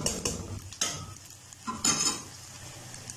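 Onions fry in a pan toward light golden for an arbi masala curry: a quiet, soft sizzle broken by several brief scraping strokes of a spoon stirring.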